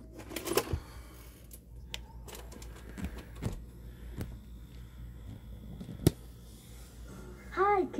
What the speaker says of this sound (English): Let's go ahead and pop a tape in and see how it plays.